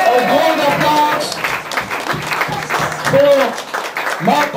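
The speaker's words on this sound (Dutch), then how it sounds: "Een groot applaus" Applause from an audience at an award ceremony for a nominee, a brisk crowd clapping heard alongside a presenter's speech and some cheering voices.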